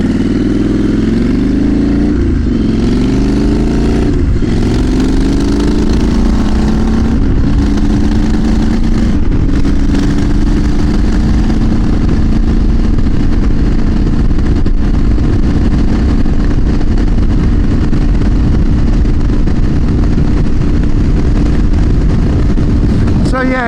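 A motorcycle with a custom twin-pipe exhaust, each cylinder feeding its own pipe, rumbles loudly and close while riding in traffic. Revs rise and fall early on, then settle into a steady deep drone, and someone talks over it.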